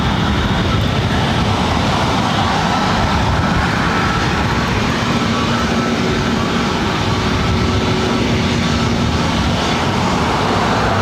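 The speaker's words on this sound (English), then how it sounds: "It's a Delta A321 Neo." A Delta Airbus A321neo airliner at LAX roars loudly and steadily for the whole stretch, a dense broadband engine rumble with no talking.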